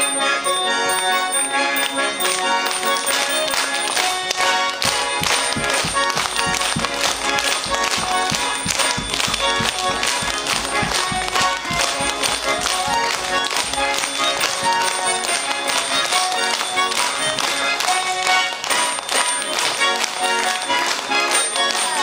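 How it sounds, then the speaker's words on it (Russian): A Saratov harmonica plays with its little bells chiming along as the bass buttons are pressed hard, producing a bright, continuous jingling over rhythmic bass and reed chords throughout. "если мы посильнее на эти кнопочки нажмем, то вместе с басами будут звучать и колокольчики"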